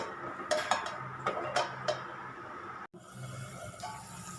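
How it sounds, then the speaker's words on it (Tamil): A lid goes onto a cooking pot of simmering thayir vadai kulambu, a close metallic clatter of cookware with a few clinks over a low bubbling background. "இப்போ மூடி வச்சிடலாம்."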